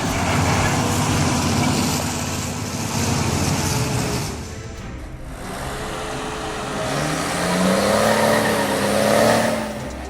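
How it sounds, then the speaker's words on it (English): Heavy truck engine roaring and straining under load on a steep slope, tires straining, steady and loud, with a rising strained pitch toward the end. "The truck tire is making an awful noise."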